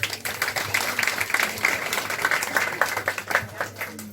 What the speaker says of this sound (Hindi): हम चाहते हैं इनको तालियों से आप स्वागत करें